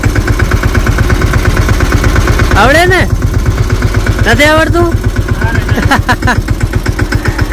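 A tractor engine idles with a steady low chugging rhythm, close and loud, during village sowing work, while people talk over it.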